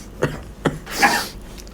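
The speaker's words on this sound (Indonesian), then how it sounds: "Anjir batuk lagi." Someone coughs twice in quick succession, followed by a brief, breathy, noisy burst.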